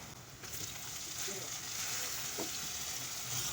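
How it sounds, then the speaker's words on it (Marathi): Onion frying in a pan with tomato going in, a steady close sizzle with broadband hiss and a few faint stirring scrapes, no voices. "आता त्यात आपण टोमॅटो टाकणार आहोत."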